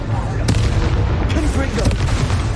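Explosive blasting-spell booms in a Harry Potter video game, a dense rumbling burst with a couple of sharp cracks, loud and close over a busy game soundscape. A voice is heard in the mix.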